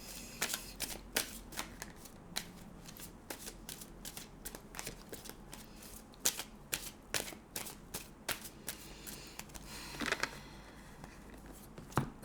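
Tarot cards being shuffled by hand, a close, quiet run of crisp riffling and flicking bursts repeating irregularly, with no talking.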